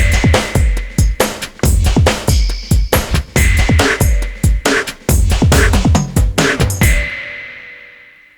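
A Korg Microstation workstation plays a punchy electronic drum pattern with kicks, snares and hi-hats in a steady groove, ending on a ringing cymbal that decays alone.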